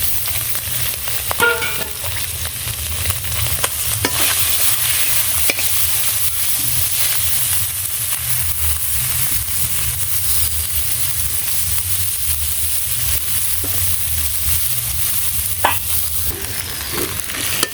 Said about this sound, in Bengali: মাছগুলো ভেজে নেই